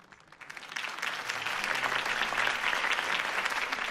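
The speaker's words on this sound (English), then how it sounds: "could have heard that applause" Crowd applause in the Batman Telltale Series video game following a campaign speech, starting softly and swelling within the first second into full, sustained clapping from a large gathering that stays strong to the end.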